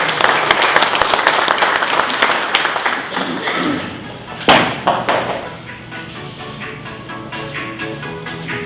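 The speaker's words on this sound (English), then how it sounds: "Applause for Patty before she even starts." Audience applause at a regional economic development meeting, a loud sustained round of clapping from a room full of people, with a sharp thump in the middle before the clapping thins out into a few scattered claps.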